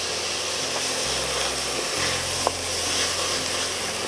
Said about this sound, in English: we're going to go ahead and add our garlic to the mixture